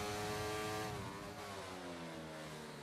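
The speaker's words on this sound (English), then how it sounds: "You can hear the roar of that Ferrari engine inside of that Alfa Romeo now." Ferrari engine in an Alfa Romeo race car in the F1 22 game, a sustained high-pitched onboard roar with rising and shifting harmonic tones as the revs change, loud and continuous.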